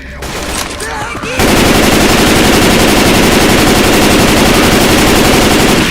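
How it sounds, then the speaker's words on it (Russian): Assault rifle fire in Left 4 Dead 2, a loud continuous rapid burst of automatic shots that starts abruptly after a second of quieter game noise and keeps going without pause. "Штурмовая винтовка."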